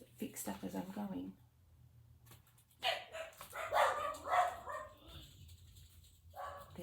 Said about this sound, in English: There goes my dogs.